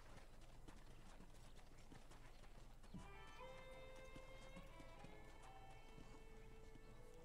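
Horse hooves in Red Dead Redemption clip-clop in a quick, steady rhythm throughout, fairly faint, with bright musical tones entering midway over the galloping.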